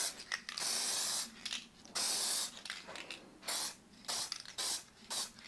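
Short bursts of aerosol spray paint laying a first dust coat on a Porsche 928 panel, about seven close hissing passes with brief pauses between them.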